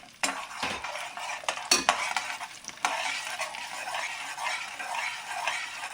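Mustard seeds sputtering in hot oil in a pan while preparing rava idli, a steady crackling sizzle broken by a few sharp clinks and scrapes of a spoon early on, no talking.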